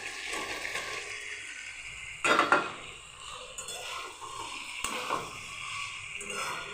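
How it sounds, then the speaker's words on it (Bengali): Paneer cubes are sautéed in a tomato, ginger and green chilli gravy, a soft sizzle under clattering pan and spatula scrapes, with a louder clank of pieces going in near the middle. "পনিরগুলো দিয়ে সামান্য একটু কষে নেব।"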